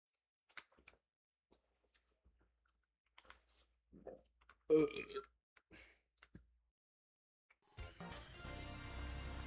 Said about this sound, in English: not sorry for burping, by the way